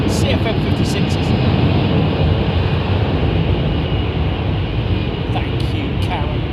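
A Finnair jet airliner with CFM56 engines departs Heathrow, a loud broad rumbling roar that stays steady throughout.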